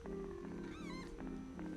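Gargamel, a pet house cat, lets out a single drawn-out, wavering meow near the middle, close and fairly clear above a low, steady background hum.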